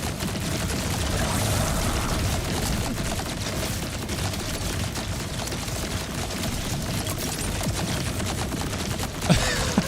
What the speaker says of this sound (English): Now they're shooting him.